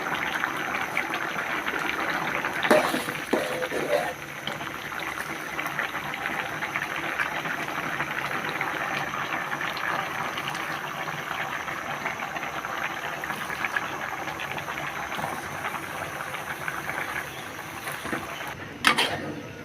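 Spinach simmering in a covered pan for a Bengali palong shaker chachchari, a steady soft bubbling hiss that holds evenly throughout, with a couple of brief clinks.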